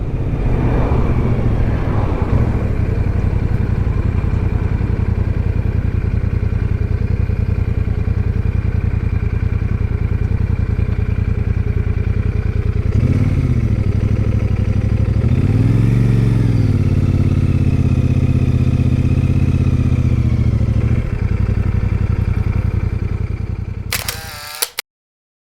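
A Royal Enfield Super Meteor 650 motorcycle cruises in fifth gear at about 50 km/h, its twin-cylinder engine humming steadily and close, with a brief swell near the middle and a clatter as it cuts off at the end.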